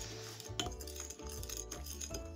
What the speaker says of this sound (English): Now stir some more.